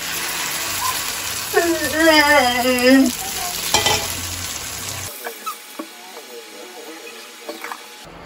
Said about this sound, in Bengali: এখন আমি শাকটা ভেজে দিলাম